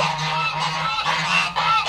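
Geese on a farm honking in a continuous, close, nasal chorus of overlapping calls, loud and unbroken for a couple of seconds with no talking.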